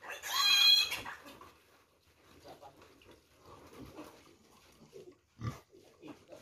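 Piglets held in a sack with holes cut for air, giving out a loud high squeal at first, then softer grunts and rustling with a person talking over them.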